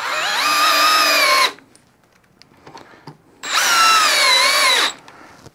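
A Milwaukee cordless drill driver runs screws in two loud bursts of about a second and a half each, its whining pitch rising and falling. A quieter pause of light handling separates them.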